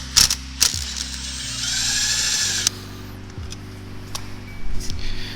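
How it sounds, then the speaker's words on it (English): Ratchet wrench backing out an engine bolt on a Honda Grom while fitting an engine guard, with a fast mechanical clicking whir, brief pauses and resumed bursts, close and fairly loud with no talk. "So we're gonna get this bolt out, we're gonna get the other side on,"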